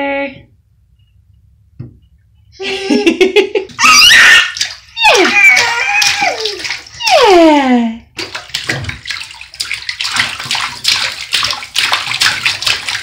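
A baby splashes in bathtub water, with bursts of sloshing and splashing mixed with an adult's sing-song voice and the baby's squeals, close and fairly loud.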